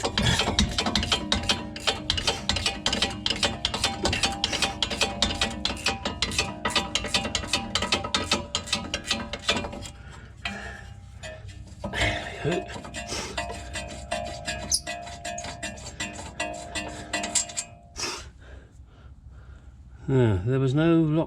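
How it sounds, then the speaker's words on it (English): A 17 mm ratchet works loose the brake caliper bolts on a 2003 Toyota Highlander during a front pad and rotor job, giving rapid, steady pawl clicking close by that stops partway, followed by scattered metallic handling noises. "I have a 17 millimeter ratchet one as well, because I wasn't going to spend ages just unbolting these damn things"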